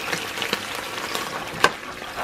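Spring onions sizzling in a pan for risotto, a soft steady frying crackle with scattered pops and one sharper snap, close and fairly quiet.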